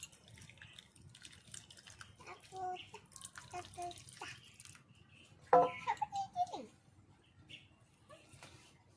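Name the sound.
watermelon juice straining through a net, dripping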